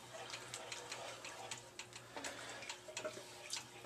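Warm stock poured over risotto in a pan, a faint liquid pour with soft splashes and small clicks, quiet and close.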